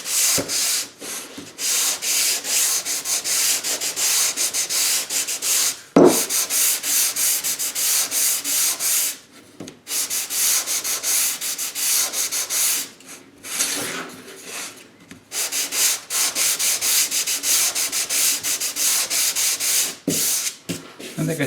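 Wood veneer is hand-sanded with 220 grit sandpaper in loud, close, rhythmic rubbing strokes, with a few brief pauses between bursts.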